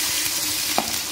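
Onions fry loudly in a pan for chicken biryani, a dense, continuous close-up sizzle with one brief stir or clink partway through.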